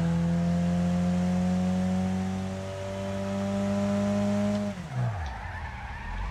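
A car engine drones steadily in the racing game Wreckfest, then drops in pitch with a brief skid near the end as the tires scrub, loud and close with no talk.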